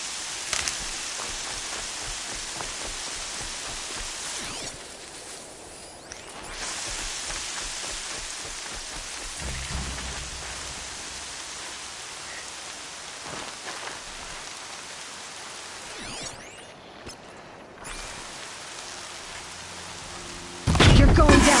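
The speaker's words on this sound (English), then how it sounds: "More rain. My boots will get damp." Heavy rain pours in the Horizon Zero Dawn video game, a loud dense hiss that swells and dips with brief gaps, ending in a sudden louder burst.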